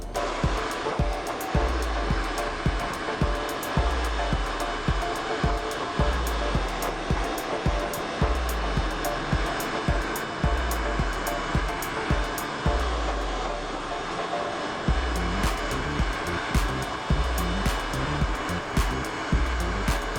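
A hair dryer blows steadily at close range while curly dreads are shaped with a sponge, its constant airy roar overlaid with repeated low thumps and rustling handling noises throughout.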